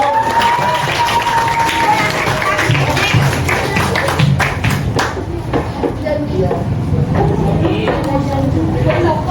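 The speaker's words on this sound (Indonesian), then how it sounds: "Tepuk tangan dulu." Students clap together in a classroom during a civic education lesson, a steady, loud wash of applause lasting throughout, with voices talking over it.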